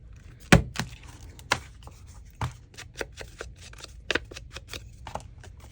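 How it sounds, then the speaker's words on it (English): A notch is cut into a paper junk journal folio, making a series of crisp snips and rustles. One louder cut opens the sequence, followed by lighter, quick clipping sounds close by. "we can cut a little notch in here"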